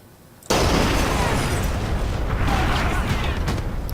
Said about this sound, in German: das war Granaten